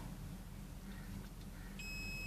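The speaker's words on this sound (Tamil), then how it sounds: "பீப் சவுண்ட் வருது" Steady multimeter continuity beep that starts near the end and holds, faint above a low hum, sounding while a transformer's secondary output wires are being tested for resistance.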